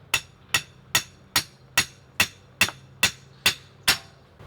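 Rebar being hammered into the ground beside an arbor post outdoors, ten sharp metallic blows at a steady, even pace, each ringing briefly with a slight echo.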